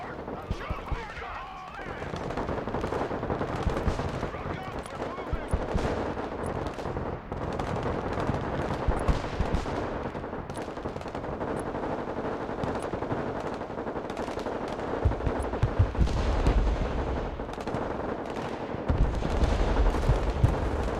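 Artillery and gunfire in the war game Broken Arrow, with continuous rattling machine-gun bursts and deep booming impacts over a steady battle rumble, while a voice talks over the combat.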